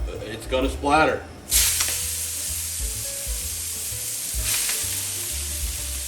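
Half a batch of bok choy hits very hot oil for ginger beef, bursting into a loud, close splattering sizzle that then settles into a steady crackle, with a second flare later; a voice speaks briefly just before.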